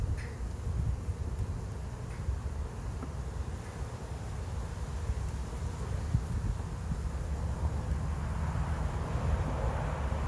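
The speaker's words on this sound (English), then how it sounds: "Busy, busy bees." A dense, low buzzing of many honeybees around a nuc hive hums continuously, with soft background noise and no voices.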